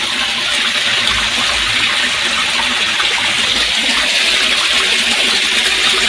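A loud, unbroken rush of monsoon rainwater pours and churns close by, steady from start to finish, with no talking.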